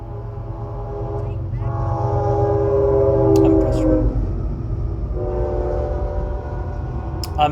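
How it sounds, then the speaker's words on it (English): In Saints Row 2, a train rolls past with a steady low rumble while its horn sounds in two long, loud tonal blasts, the second following shortly after the first. "Another train incoming."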